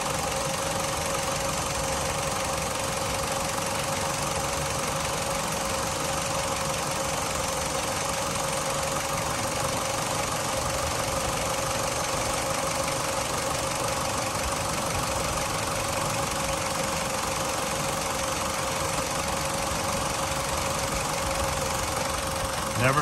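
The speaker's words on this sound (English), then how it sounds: "so you can listen to this engine run" A 2014 Mitsubishi Lancer ES engine idles steadily and evenly for a long stretch, a close, constant mid-pitched hum with no revving.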